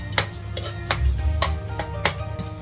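Ginger being sautéed separately in oil in a pan while making bulalo, a soft steady sizzle broken by regular scraping taps of a spatula stirring, close up and without voices.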